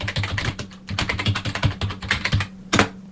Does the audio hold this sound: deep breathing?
no